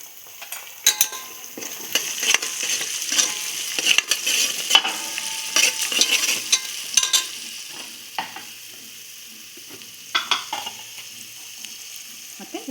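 Onion, turmeric and masala fry for a katla fish curry, with a steady sizzle punctuated by frequent scraping stirs of a spatula against the pan, close and moderately loud.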